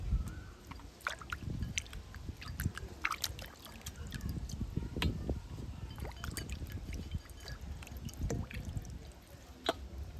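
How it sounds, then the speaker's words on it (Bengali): Mangoes washed by hand in a bowl of water, faint close splashing and dripping with soft knocks and rubbing sounds, quiet and intermittent throughout. "এখানে একটা পাত্রের মধ্যে জল নিয়েছি, এইভাবে ভালো করে আমের খোসাটা যেহেতু লাগবে ভালো করে এইভাবে ধুয়ে নেব।"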